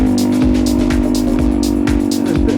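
Light two-stroke dirt bike engine held at high RPM while riding through sand at Rio Puerco, New Mexico, a loud, steady buzzing drone with rhythmic throttle pulses throughout.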